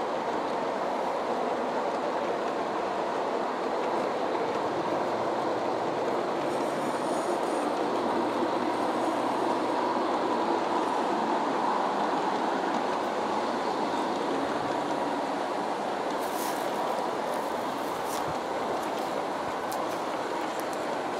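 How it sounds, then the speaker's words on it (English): A G scale model Santa Fe train, with LGB tank cars, runs continuously on an upper track loop, producing a steady rolling rumble and wheel noise with faint clicks and brief high squeals near the end. "So here the train is on the upper loop."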